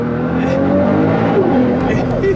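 A 2014 Nissan GT-R making 1,380 wheel horsepower accelerating hard, a loud, steady engine roar rising in pitch inside the cabin, with voices talking over it.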